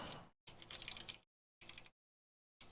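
Bursts of rapid clicking keystrokes on a computer keyboard, with short pauses of silence between three or four close, crisp typing runs; no voices.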